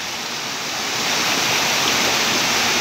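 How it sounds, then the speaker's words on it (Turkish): Rushing water from the Hacılar waterfall near Çubuk, Ankara pours in a loud, steady, close roar with no voices. "Harika bir şelale ve görmeye değer,"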